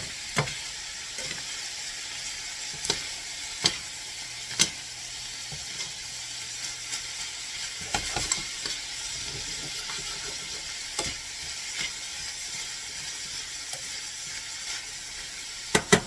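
A pizza sauce of dressing and cream cheese is mixed in a pan, with a soft, steady sizzle and scattered spoon clicks and scrapes, quiet and close, no one speaking.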